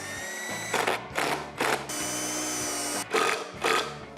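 A power drill bores holes into a wooden board for a wine rack, the motor whining steadily with several rougher bursts as the bit cuts into the wood.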